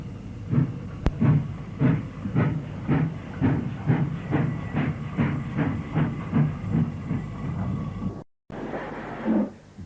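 A Stanier Black 5 steam locomotive, a 4-6-0 tender engine of a class introduced in 1934, runs with steady rhythmic chuffing and a clatter of wheels, fairly close and loud, then a brief cut and a softer passing tail.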